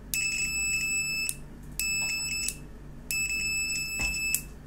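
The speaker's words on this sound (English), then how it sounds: "This the buzzer start buzzing." An electronic buzzer on a breadboard, switched on, sounds in three shrill, high-pitched bursts, each over a second long with short gaps between, fairly close and loud.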